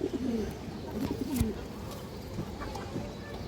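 Old-line racing pigeons coo in a run of low, rolling calls during the first second and a half, followed by quieter ambient murmuring.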